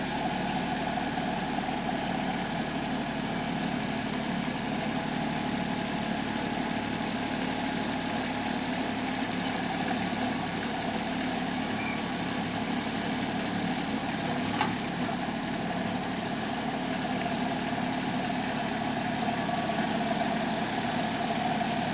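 A tractor engine runs steadily throughout, a continuous droning idle with a low knocking throb, close and unbroken, with no voices over it.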